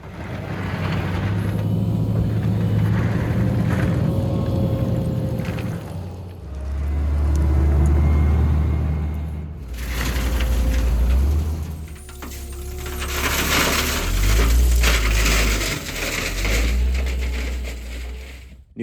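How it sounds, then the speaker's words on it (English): A truck graveling roads into a cattle corral, engine drone and mechanical clanking that swell and fade in several loud passes, with rattling gravel, no talking. "Today I'm graveling roads into the corral."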